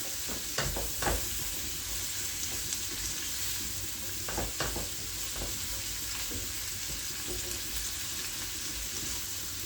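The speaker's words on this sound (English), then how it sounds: "we're going to leave that to saute down a bit, nicely cooked" Chicken sautéing in a hot pan sizzles continuously, with a few sharp utensil scrapes and taps while it is stirred, close and clear with no talking.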